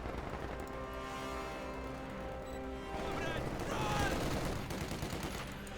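MG42 machine gun fire in Company of Heroes 2, a busy battle soundscape of bursts and explosions mixed with steady background music and game noise, moderately loud throughout.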